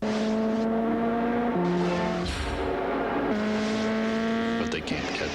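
A loud Nissan Turbo Z sports car engine roars steadily with gear-shift drops in pitch, accelerating hard, with talk over it.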